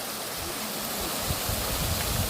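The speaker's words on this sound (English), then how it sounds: "It's got these 3 waterfalls here." Steady, dense roar of waterfalls at a swimming area in a hiking spot near Taxco, Guerrero, Mexico, a loud continuous rush of falling water with no voices.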